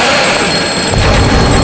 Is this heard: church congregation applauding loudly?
no